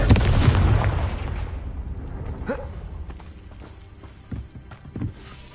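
A Confringo fire spell from Hogwarts Legacy bursts loudly at the start and rumbles down over a few seconds, with a few lighter thuds and impacts following further off.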